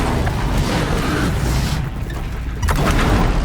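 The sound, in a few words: Tear Blaster weapon firing at Ravager, Horizon Zero Dawn video game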